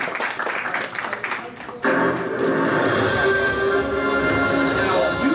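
Audience applause at a convention game-show panel, a broad wash of clapping swelling after about two seconds and holding steady and loud through the end, with a few voices mixed in.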